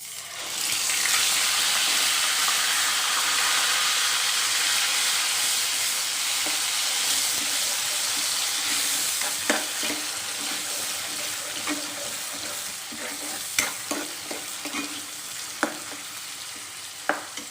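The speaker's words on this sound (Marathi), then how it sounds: "या ग्रेव्हीला चांगलं तेल सुटूपर्यंत परतून घेऊया" Onion and tomato puree gravy for egg masala sautéing in oil, a loud continuous sizzle that softens slightly over time, punctuated by occasional sharp spoon scrapes and clinks near the end.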